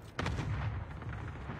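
Video game gunfire ringing out as a sudden burst of shots followed by continuing rapid firing and reverberating booms, fairly loud and with no talk over it.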